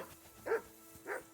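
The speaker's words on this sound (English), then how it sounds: "Jesus, Henry, that barking's driving me nuts." A dog barks twice in the medieval Bohemian world of Kingdom Come: Deliverance II, two short single barks spaced about half a second apart, moderately distant and fairly quiet over a low steady background hum.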